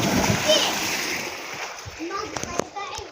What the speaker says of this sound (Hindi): ये वहाँ से सुरंग पानी जा रहा है, वहाँ से इस तरफ पानी जा रहा है अंदर।